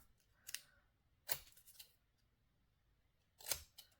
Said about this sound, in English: Let's cut this dark frame off.